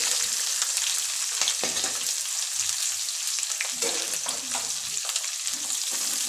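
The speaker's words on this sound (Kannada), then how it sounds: "ಈರುಳ್ಳಿನ ಒಂದು ಸ್ವಲ್ಪ ಫ್ರೈ ಮಾಡ್ಕೊಳ್ಳಿ" Two medium onions frying in a pan for a vegetable pulao, giving a steady close sizzle with soft stirring scrapes throughout, no voices.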